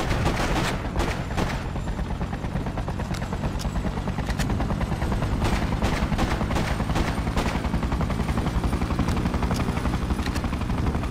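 Rapid bursts of video game gunfire aimed at soldiers crackle nonstop over a dense, rumbling battle din, with repeated sharp shots throughout.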